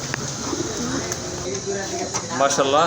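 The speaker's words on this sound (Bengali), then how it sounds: "এখানে কিন্তু আরও দুইটা কবুতর আছে" Domestic and foreign pigeons at a Bangladeshi pigeon farm coo softly and repeatedly under continuous close talk, with some chirps among them.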